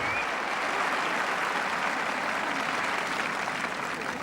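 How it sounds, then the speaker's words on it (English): Wimbledon 1977 semi-final crowd cheering and applauding Vitas Gerulaitis against Bjorn Borg, a continuous wash of clapping and cheers at steady volume, with no talking. "a tremendous cheer for his opponent"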